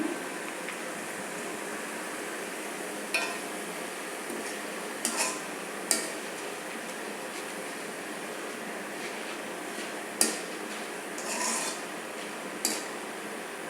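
Flattened rice (chira) being fried in a pan for a crispy snack: a soft, continuous rasping rustle with occasional light scraping clicks of the spatula, fairly quiet and with no speech.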